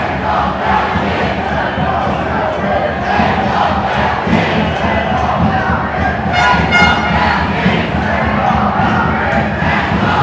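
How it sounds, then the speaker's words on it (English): Large protest crowd chanting "Hands off our kids" in unison during a truckers' occupation in Canberra, Australia, a loud, dense roar of many voices with rhythmic shouted bursts and cheering throughout. "They're chanting, "Hands off our kids," if you can't hear."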